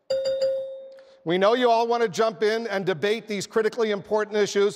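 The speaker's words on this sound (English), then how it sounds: "a bell will sound like this." A ding-dong timing bell rings clearly at a Republican primary debate in Texas, a single sustained chime that fades before a moderator's voice takes over and continues speaking.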